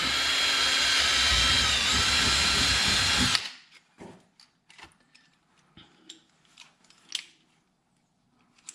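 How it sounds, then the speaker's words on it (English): A power rivet tool fires a rivet through a Camaro ZL1 aero kit into plastic undercarriage, a loud continuous whirring burst for over three seconds that cuts off abruptly, followed by scattered clicks and taps. "This is another place that I want to put another rivet."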